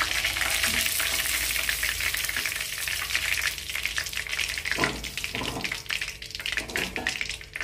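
Loitta (Bombay duck) fish pakoras fry in hot oil with a steady, loud sizzle and crackle running throughout, with a few stirring or lifting clatters near the end; no voices.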